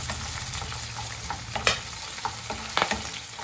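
Chicken curry masala for a home-style chicken sambar fries and sizzles in a pan as it is stirred. A continuous close sizzle runs under scraping sounds and a few sharp knocks of the utensil against the pan, with no talk.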